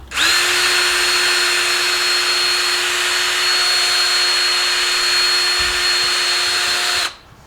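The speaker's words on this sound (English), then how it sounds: "I just put it in the drill like this, and then get an old rag" A power drill spins a chrome wheel bolt for polishing with a rag, a steady loud whine holding one even pitch for about seven seconds before cutting off abruptly, with no talking.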